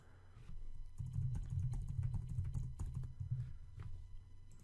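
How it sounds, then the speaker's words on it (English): Rapid clicking of keys on a computer keyboard, steady and close, running continuously for several seconds with no voices. "let's just say you typed out a bunch of stuff"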